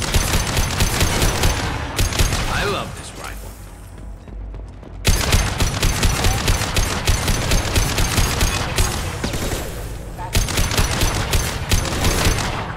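Gunfire in the video game Mass Effect 2 Legendary Edition: loud rapid bursts of automatic shots in long rattling volleys, broken by brief lulls, with no speech over it.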